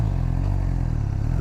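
A 2017 Suzuki GSX-R600 sport bike pulls hard in first gear, its engine a loud, close, continuous low drone with a rough mechanical rattle over the brief run.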